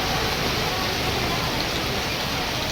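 Heavy rain pours down in Balangir, a dense, loud, continuous hiss with no clear thunder crack standing out.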